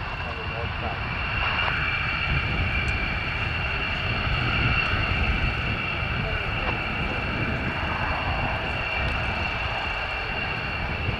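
A Polish M-28 Bryza twin-turboprop aircraft runs its engines at the start of the runway for takeoff, a steady droning whine at moderate distance, with radio talk over it.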